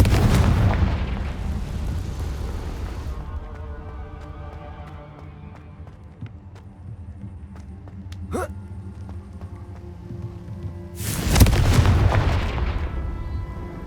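Fire spell explosions from the Hogwarts Legacy video game burst loudly at the start and again near the end, with a rumbling game soundscape and a sharp whoosh between them.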